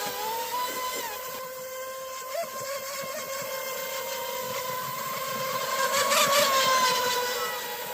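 Two electric RC speedboats, an Oxidean Dominator and a DF Chaser 32 on 6S power, race at near full throttle, their high-pitched motor whine steady and loud, rising and bending in pitch as they pass close by.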